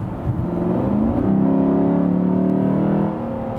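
A Lexus GS F V8 engine rises in a brief, smooth rev after a two-gear downshift, climbing and holding for about two seconds before easing off, heard from inside the car.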